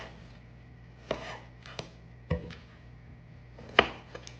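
A knife chops washed potatoes into halves or quarters on a board for a Sunday roast, giving several sharp, close cuts at irregular intervals over a faint steady hum, with no talking.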